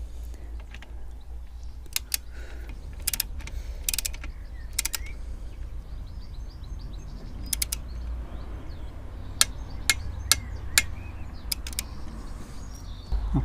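Allen head bolts being tightened on a Honda CB500X rear hugger, with faint creaks and scattered sharp metallic ratchet clicks in short bursts over a low steady hum, close and quiet.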